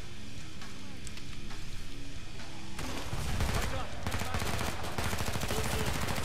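Rapid machine gun fire from the co-op shooter game Killing Floor 2 rattles continuously over other game sounds, dense and loud throughout, with heavier bursts in the second half.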